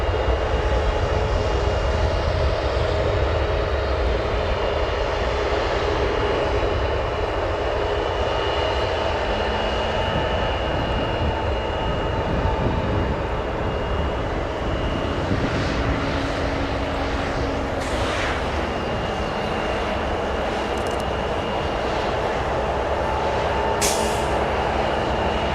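A jet airliner departs O'Hare airport, its engines making a sustained, loud broadband roar that holds steady for a long stretch, with tonal whine layered on top and no talking.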